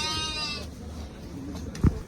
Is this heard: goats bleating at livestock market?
yes